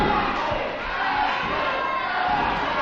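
A wrestling crowd at a live event in West Newton roars and chants a wrestler's nickname, loud and dense throughout, with no clear individual voices.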